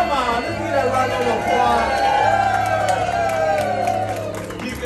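A cruise-ship audience at a Flosstube at Sea event breaks into sustained applause, whoops and cheering, with a dense, steady crowd roar filling the room.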